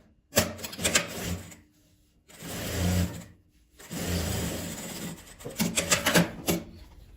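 A sewing machine runs in three bursts of rapid mechanical stitching through fabric while making a sewing machine cover, with short quiet pauses between runs, close and moderately loud.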